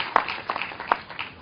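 A meditation audience claps for themselves: a handful of faint, scattered hand claps over about a second and a half, with no voices.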